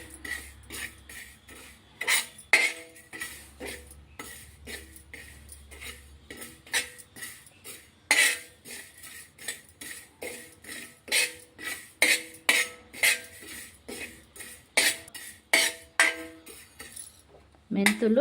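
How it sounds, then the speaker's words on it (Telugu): Cumin and fenugreek seeds roasting on a clay pan for mango pickle powder, heard as close, irregular clinking and scraping of a utensil against the pan in quick repeated bursts, with no talking. "మెంతులు, జీలకర్ర దోరగా వేగుతున్నాయి."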